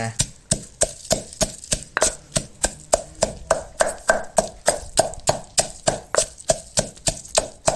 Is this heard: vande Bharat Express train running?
no